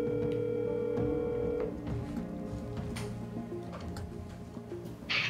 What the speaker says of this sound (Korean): 최근 입수한 전 씨의 번호로 전화를 걸어봤습니다